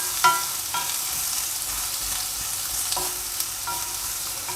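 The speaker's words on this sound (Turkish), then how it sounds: "Soğanlarımızı içine atıyorum. Bunları hafif soteledikten sonra" Steady sizzling of onions sautéing in a pan, with a few soft clinks and stirring scrapes, close by and continuous.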